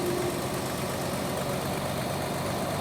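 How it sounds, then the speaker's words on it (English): A Jeep JK engine idles steadily after startup, a continuous, even rumble with faint vibration, close by and uninterrupted, with no voices. "The engine's turning."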